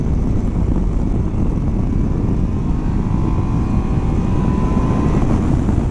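Yamaha Ténéré 700 World Raid adventure motorcycle with a CP2 twin engine, heard while riding: a steady, loud engine drone with wind, holding constant throughout with a faint rising engine tone near the end and no talk.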